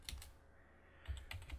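Fast bursts of computer keyboard typing with light close clicks, separated by a brief pause, quiet and with no voices.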